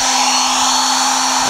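An electric motor run by a speed controller spins with a steady, loud, high whine and a constant hum underneath, holding one unchanging pitch before a slight shift at the very end.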